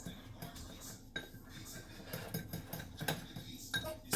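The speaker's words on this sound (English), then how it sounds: "I'm going to whisk this in." Light metal clinks and taps as a whisk stirs cocoa powder glaze in a small cup, quiet and irregular.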